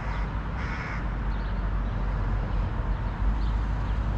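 Crows caw outdoors near hawks on the ground, a couple of distinct caws early on and a fainter call later, over steady low rumbling wind or traffic noise.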